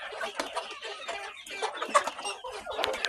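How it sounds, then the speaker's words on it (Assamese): Local farm chickens cluck and chatter steadily while pecking at scattered feed grain, a close, busy flock with overlapping short calls and no talking. "দানা দিছোঁ, দানা খোৱাত লাগি আছে।"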